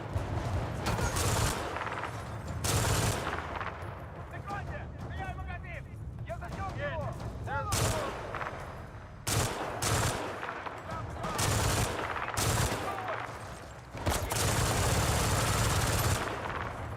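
MG3 machine gun fire in the Battlefield 6 multiplayer shooter comes as long, loud automatic bursts separated by brief pauses, with other battlefield sounds between them and someone speaking over parts of it.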